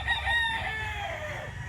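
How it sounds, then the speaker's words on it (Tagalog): A single Roundhead gamefowl rooster, a red-eyed cock, crows once close by in a long, drawn-out, strained call that fades toward the end, with faint background noise and no voices. "Napakagwapong manok."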